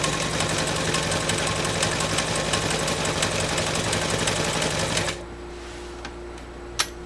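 Montgomery Ward UHTJ1273 sewing machine with a 1.0 amp motor stitching a zigzag, a steady fast loud clatter for about five seconds that stops abruptly, leaving a quiet room with one sharp click.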